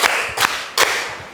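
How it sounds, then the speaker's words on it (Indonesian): Three sharp hand claps in a clapping game, evenly spaced about 0.4 seconds apart, close and crisp over a quiet background. "Tepuk 4 2 kali."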